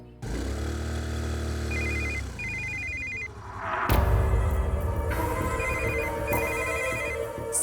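A phone ringtone plays repeating electronic beeping patterns over a musical backing, fairly loud and close, continuing for several seconds.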